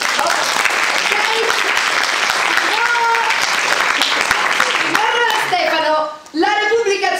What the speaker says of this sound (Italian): facciamo un applauso di incoraggiamento